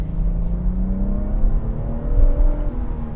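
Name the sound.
BMW M140i engine revving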